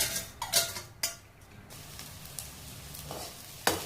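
Rice stir-fries in oil in a pan, a continuous close sizzle punctuated by several sharp spatula scrapes and clinks against the metal, with one more strike near the end.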